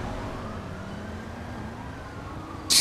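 A fire truck siren in a video game wails faintly and steadily in the background, its tone slowly drifting, with no voices, before a sudden sharp burst of noise at the very end.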